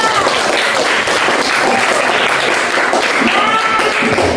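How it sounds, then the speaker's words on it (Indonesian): A classroom full of students applauding, steady dense clapping that holds at a loud level throughout without pause. "Oke, betul ya, tepuk tangan untuk Nabila."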